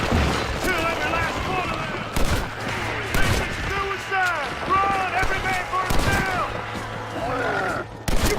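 Gunfire from the video game Red Dead Redemption: Undead Nightmare cracks repeatedly throughout, shots and blasts layered under shouting in-game voices.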